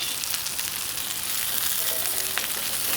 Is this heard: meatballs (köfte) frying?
yes